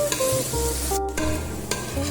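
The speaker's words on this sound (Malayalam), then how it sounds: "സവാള ഒന്ന് ലൈറ്റ് ഒരു റോസ് ബ്രൗൺ ആവുന്ന വരെ നമുക്കൊന്ന് ഇളക്കി കൊടുത്തുകൊണ്ടിരിക്കാം" White onions fry for hostel biryani, a bright continuous sizzle with repeated metallic scrapes and clinks from a spoon stirring the pan, close and fairly loud, without any voices.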